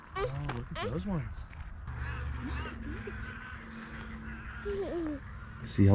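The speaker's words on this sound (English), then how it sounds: "I wonder what kind of bird that is. One that like cackles." Birds call and cackle at evening in Big Cypress National Preserve in the Everglades, several harsh, rising squawks near and far over a steady background, with people talking at times.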